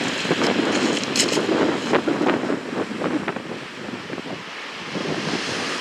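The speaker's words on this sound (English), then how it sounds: "Windy now." Steady wind buffets the microphone outdoors on a beach at night, a broad constant rush with faint surf-like swells underneath and no talking.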